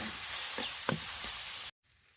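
Spices for a snakehead fish curry fry in a pan with a steady sizzling hiss and a few light stirring clicks. It cuts off abruptly near the end, and no voices are heard.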